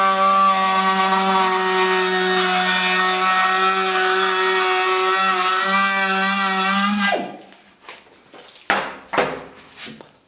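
A router milling a 2.5 mm radius along the edge of an MDF plinth, a loud steady high whine with a stable pitch that stops after about seven seconds, then a few clunks and rubbing sounds.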